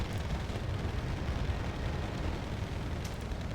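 Artillery fire pounds a battlefield in Wargame Red Dragon's Second Korean War campaign, a steady, muffled, rumbling roar of distant blasts with no clear gaps.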